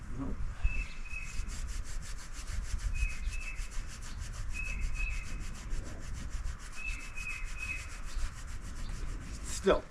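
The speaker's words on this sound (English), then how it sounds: "It might take some of the crud off and smooth things out a little bit. It's not a very aggressive roller pad" A roller pad sands crud off sawmill parts in a continuous, gritty rubbing rasp. A fast rhythmic chatter runs through it, with faint bird chirps over the grinding and no talk.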